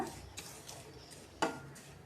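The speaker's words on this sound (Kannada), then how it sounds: "ಉಪ್ಪಿಟ್ಟು ರವೆ ತೊಗೊಂಡು ಉಪ್ಪಿಟ್ಟು ರವೆ ಹುರ್ಕೊತಾ ಇದ್ದೀನಿ ನೋಡಿ ಕೆಂಪಾಗಂಗೆ ಹುರ್ಕೊಂಬಿಡೋಣ" Upma semolina (rava) is stirred and dry-roasted in a pan, giving quiet, intermittent scraping strokes and one sharper clink of the spoon against the pan, with no talking.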